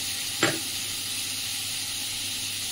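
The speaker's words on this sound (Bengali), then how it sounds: "চলো এবারে সবজিগুলো একটুখানি সেদ্ধ, মানে নুন দিয়ে একটু ভেজে নিই" Potatoes and vegetables with salt frying in a pan give a steady, close sizzle throughout, with one brief clatter near the start.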